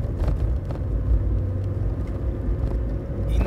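A car accelerating toward 60 km/h on a driving test course, a close, steady engine rumble and road roar holding fairly loud throughout.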